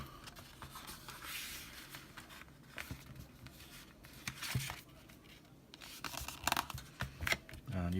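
Scored cardstock being folded in half for a card, producing soft papery rustles, creases and scraping handling noises at close range, with a few sharper crinkles near the end.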